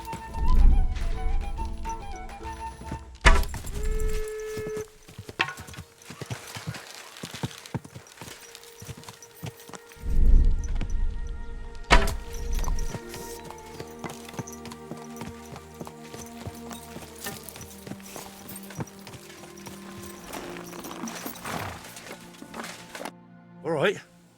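Horse hooves clip-clopping in the medieval video game Kingdom Come: Deliverance II, a steady run of hoofbeats that surges loudly at several points, under game music and speech.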